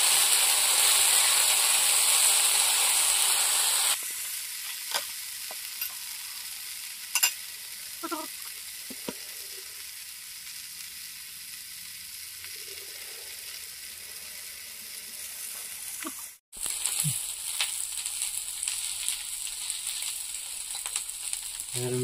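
Prawns fry in a pan with a spicy red masala. A loud steady sizzle fills the first seconds, then settles into a softer crackling hiss with occasional stirring scrapes. No one speaks.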